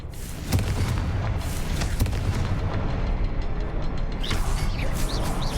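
Confringo blasting spell striking runes in Hogwarts Legacy, a few sharp booming hits over a dense rumbling roar, with bright crackling effects near the end.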